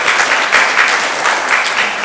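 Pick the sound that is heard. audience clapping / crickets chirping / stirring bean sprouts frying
audience clapping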